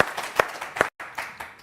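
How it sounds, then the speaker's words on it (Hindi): A live audience applauding with a short burst of clapping at a studio interview, steady and fairly close, with a brief dropout partway through. "इनके लिए एक ताली होनी चाहिए मेरी तरफ से"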